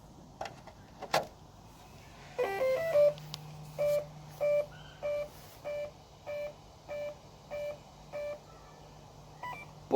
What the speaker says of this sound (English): Boy, that's a lot of beeps, huh?